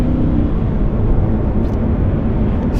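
The manual V10 engine of an Audi R8 supercar roars loud and close, a dense, rough, steady revving that stays strong the whole time.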